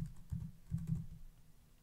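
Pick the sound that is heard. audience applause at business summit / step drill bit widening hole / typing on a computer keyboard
typing on a computer keyboard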